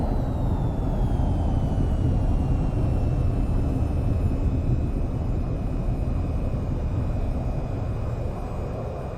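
Aircraft rolling down the runway for takeoff in the VTOL VR flight game: a loud, steady jet roar with a rising whine, continuous and close throughout.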